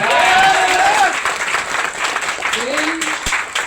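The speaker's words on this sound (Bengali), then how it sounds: "তালি দেন না জোরে" An audience at a motivational sales talk applauds with a steady, dense wash of clapping that carries through the whole moment, while a voice speaks over it.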